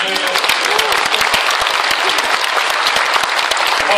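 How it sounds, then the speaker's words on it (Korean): Rally crowd applauding loudly and close, a thick burst of many hands clapping with sharp individual claps standing out, and some voices mixed in underneath. "여기서 박수 한번 쳐주세요"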